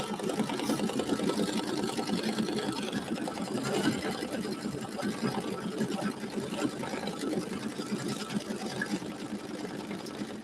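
A computerized embroidery machine stitches out an outlined letter, its needle running in a steady fast rapid chatter with a continuous mechanical hum, fairly close and even throughout.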